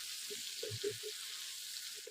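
Cauliflower pieces frying in spice paste hiss steadily in a pan, with a few soft scraping stirs of a spoon partway through and no voices.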